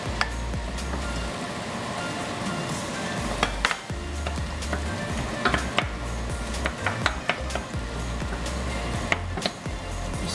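Onions and garlic fry in a pan for a Filipino burger steak, giving a steady close sizzle broken by scraping stir strokes and occasional clinks of utensil on pan.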